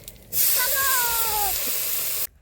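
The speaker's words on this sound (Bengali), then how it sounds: "এবার ভেজে নেব এই যে চিংড়ি মাছ।" Prawns drop into hot oil with a sudden loud, hissing sizzle that holds steady for about two seconds before cutting off, with faint bubbling beneath.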